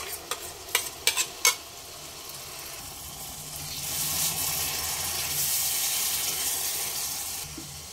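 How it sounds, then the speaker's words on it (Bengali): A spice paste of yogurt, fried onion and green chili hits a hot pan for Kolkata-style fish biryani. A few sharp clacks come first, then a broad sizzle swells and holds steady nearby. "এক মিনিট কষিয়ে নেবার পর টক দই, পেঁয়াজ বেরেস্তা, কাঁচা লঙ্কা যে পেস্টটা বানিয়ে রেখেছিলাম সেটা দিয়ে দিলাম"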